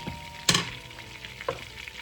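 Butter sizzles in a hot pan, a soft steady frying hiss punctuated by a couple of sharper crackling spurts, close and fairly quiet with no voices.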